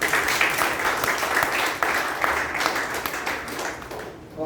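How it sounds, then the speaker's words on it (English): An audience at a youth leadership Toastmasters meeting breaks into steady applause, many hands clapping at once in a busy, sustained patter that tapers off near the end, with faint voices mixed in. "Big round of applause to Toastmasters."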